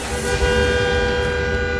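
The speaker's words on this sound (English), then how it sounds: "When you are driving, there is always lots of noise, such as traffic noise" Traffic noise with a sustained car horn honking close by, a steady tonal blare over a low rumble of vehicles.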